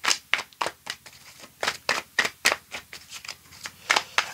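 Tarot cards being shuffled and cut by hand, a close run of crisp rhythmic riffles and taps repeating about every third of a second, with no talking.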